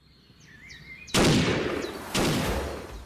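Two loud shotgun blasts about a second apart ring out in Animal Revolt Battle Simulator during a dinosaur hunt, following faint game ambience and bird-like calls.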